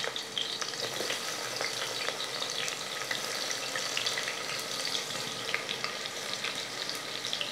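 Small onions frying in hot oil for a country chicken curry, a steady close sizzle and crackle running throughout with occasional stirring, no voices.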